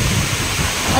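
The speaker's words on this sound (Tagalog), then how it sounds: "Hindi na talaga basta-basta itong ulan ngayon." Heavy typhoon rain at a seaside market, a loud close roar of rain with a deep low rumble like thunder beneath it, lasting about a second.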